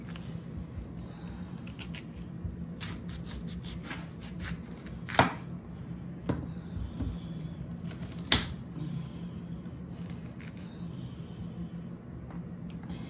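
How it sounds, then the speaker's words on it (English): Onions and mushrooms being chopped on a board with a knife, soft irregular close taps and a few sharper knocks over a steady low background hum. "I'm gonna get up the onion and onion and mushrooms all chopped up"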